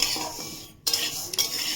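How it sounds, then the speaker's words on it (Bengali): Rice dry-fries in a kadai while a utensil stirs and scrapes it, giving a continuous close rustling hiss broken by one brief pause. "আর দেখতেই পাচ্ছ চাল ভাজছি"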